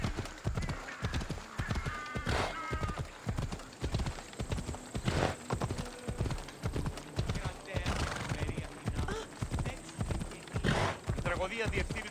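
Rhythmic clip-clop of horse hooves while riding in Assassin's Creed Odyssey, steady and close, with occasional whinnies and a voice talking over the galloping.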